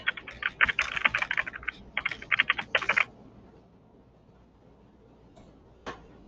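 Quick, close keystrokes patter on a computer keyboard in two rapid bursts while a link is typed, followed after a pause by one lone key press.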